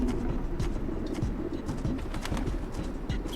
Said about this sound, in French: que les pigeons vont s'envoler, ils vont l'avertir.